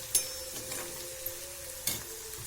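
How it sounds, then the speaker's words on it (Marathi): Onion sautés in a pan over a low flame with a steady, soft sizzle, punctuated by a few light clicks and scrapes of a spoon stirring. "मंद हिच्यावर परतू द्यायचा हा कांदा"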